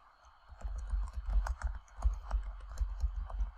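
Rapid typing on a computer keyboard, a steady patter of close, crisp key clicks with uneven rhythm and no voices.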